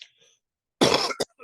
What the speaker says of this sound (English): so I may cough a little bit